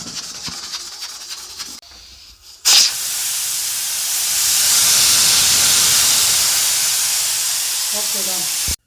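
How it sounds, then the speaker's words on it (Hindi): A pressure cooker holding beef vents steam in a loud, rushing hiss that starts abruptly after a few quieter seconds of faint kitchen sounds and holds steady, swelling slightly, until it cuts off at the end. "10 मिनट के लिए हम गोश्त को कुकर में प्रेशर देंगे।"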